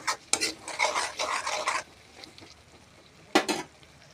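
Masala spices being stirred in a cooking pan with chicken, soft scraping and sizzling strokes repeating for a couple of seconds, then a pause and one more brief stir.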